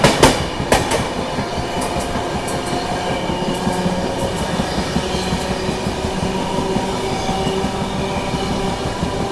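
Chennai Duronto Express picking up speed on the main line near Sevagram Junction, heard from inside: a continuous loud rumble of wheels with rhythmic clicks over rail joints and faint high squeal.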